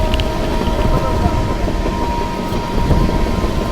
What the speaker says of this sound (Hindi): ओवरटेक कर रहे हैं यहाँ पे हम लोग त्रिवेणी एक्सप्रेस को भाई उस तरफ से